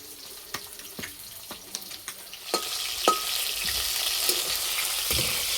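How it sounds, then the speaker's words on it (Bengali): Fish sizzles steadily in hot mustard-style oil, a soft crackling hiss punctuated by sharp clinks of a utensil against the pan. "মাছ ভাজা হয়ে গেছে, তুলে নেব।"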